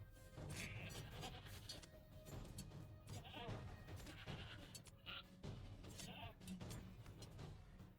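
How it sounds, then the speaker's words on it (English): Goats bleating in the online game Lord of the Rings Online during a spring festival bee instance, several bleats scattered over busy game sounds and effects. "And we got some goats over here."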